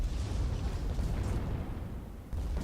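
A long-range gap mortar explosion in an airship battle game, a dense, sustained roaring blast with low rumble, loud and near, without speech.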